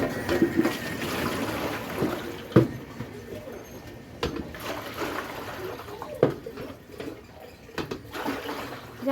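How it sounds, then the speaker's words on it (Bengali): Water runs into a bucket to soak shirts and trousers at home, a faint splashing and trickling heard under a person's talk, with scattered knocks and clatter. "দাদা জামা প্যান্ট কটা একটু ভিজিয়ে নিই"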